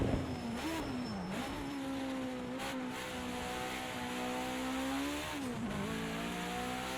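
A BMW 320 Turbo Group 5 race car laps Bathurst in Project CARS 2, its turbo engine droning loud and continuous, pitch climbing and dipping through gear changes, with no voices over it.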